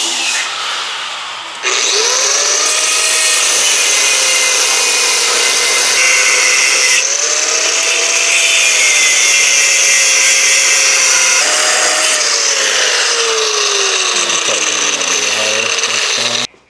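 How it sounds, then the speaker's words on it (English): A power tool gouges along a weld line on a truck frame during a DRT cab mount relocation, a loud, continuous grinding roar with a wavering whine that runs almost unbroken for about fifteen seconds. "we're going to gouge this weld line all the way up"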